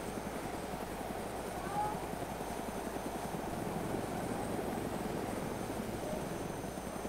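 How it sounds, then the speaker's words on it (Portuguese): A helicopter in the video game DayZ approaching, its steady rotor chop a dense, continuous rumble that holds throughout and fills the background at moderate level. "tô vendo helicóptero vindo pra cá"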